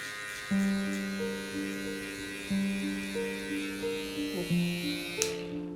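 Electric hair clipper buzzing steadily up close while cutting a mid fade, its tone dipping and surging as the blade bites and lifts through hair, no voices over it.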